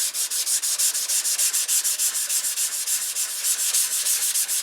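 Steady rhythmic sanding of a surface being smoothed down to an even height, with fast back-and-forth scratchy strokes, close and continuous, no voices.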